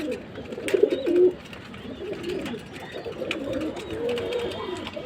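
Pigeons coo in a loft of breeding pairs sitting on eggs, including black and silver birds, a low rolling burble that swells near and loud early on, then continues steadily at a softer level.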